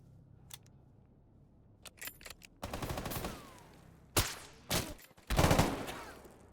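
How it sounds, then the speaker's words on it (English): Gunfire from many unseen guns at an occupied checkpoint in S.T.A.L.K.E.R. GAMMA: a few faint clicks and pops, then several loud, dense bursts of shots separated by brief gaps. "I don't scout very well before taking a shot and face the wrath of many unseen guns."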